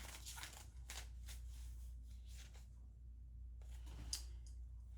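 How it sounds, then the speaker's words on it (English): Tarot cards being shuffled by hand, a few soft riffling, papery bursts with pauses between them, faint and close against a low steady hum, with no talk. "let me set these ones down, and then I'm going to shuffle"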